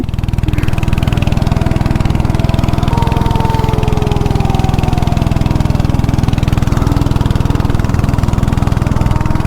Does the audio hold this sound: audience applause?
no